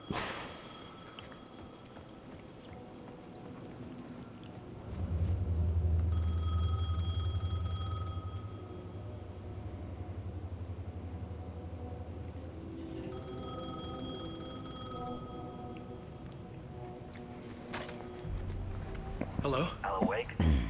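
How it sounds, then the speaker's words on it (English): A telephone rings in the video game Alan Wake 2, two long electronic ring bursts separated by a pause, set against dark ambient game sound with low rumble and a voice murmuring. "phone was ringing."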